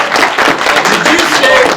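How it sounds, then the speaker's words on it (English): A Comic Con panel audience claps and applauds in a dense, loud burst, with voices mixed into the crowd noise. "So give them a round of applause."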